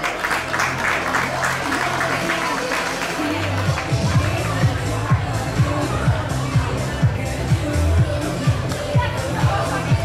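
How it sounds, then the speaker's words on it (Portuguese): A crowd applauds at an outdoor athletics meeting in Maia during a medal ceremony for a 400 m race, with steady clapping under a busy public-address mix and rhythmic low thumps running through the whole stretch. "a salva de palmas para Mary"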